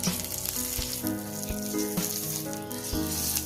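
Chitol pitha cooking in an oiled clay pan gives off a continuous soft sizzle and bubbling, close and moderately loud, with light taps and knocks as the pan is handled and steady tonal hum underneath.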